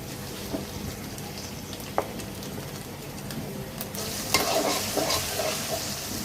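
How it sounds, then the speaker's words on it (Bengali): Onions fry with ginger garlic paste in a pan for chicken bhuna while being stirred. A steady, close sizzle is broken by scraping stirs and one sharp knock, and the sizzle turns louder and brighter in the last two seconds. "পেঁয়াজ ভাজা হয়ে গেলে আদা রসুন বাটা দিয়ে দিব পরিমাণ মতো"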